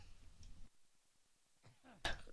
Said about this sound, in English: Just coughing there all over the place.